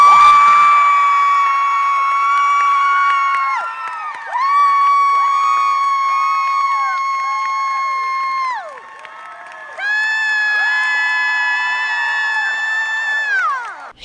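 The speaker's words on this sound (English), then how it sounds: "Eric Bogosian comes stepping out to screams and cheers, and the crowd goes wild" A convention crowd in San Diego screams and cheers for Eric Bogosian: loud, sustained waves of high-pitched shrieks and whoops that dip briefly and swell again, with no talking over them.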